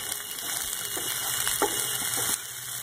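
Onions frying in a pan for semiya upma, a steady close sizzle over high flame with a few soft stirring scrapes, ending in a sudden drop near the end.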